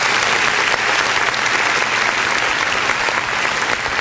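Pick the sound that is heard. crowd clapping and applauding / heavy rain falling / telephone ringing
crowd clapping and applauding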